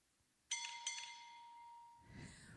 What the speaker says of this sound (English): It's called a gas station bell.